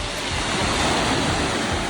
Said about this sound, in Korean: 파도 소리에 밀려왔다 다시 실려가는 돌소리가 어우러진 몽돌 강동